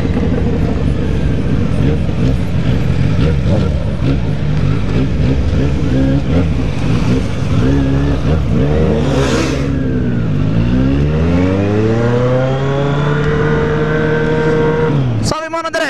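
A white Kawasaki Z750 motorcycle rides through dense traffic near Praia Grande, its engine droning steadily and loud throughout, with pitch sweeps as it accelerates and a vehicle whooshing past, ending in a sharp burst.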